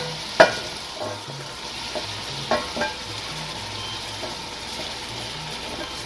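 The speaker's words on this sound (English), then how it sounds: "I will just let this fry for some 60 seconds" Ingredients fry in a pot for Nigerian oha soup, a steady close sizzle with occasional sharp clanks of a spoon against the pot and soft stirring scrapes.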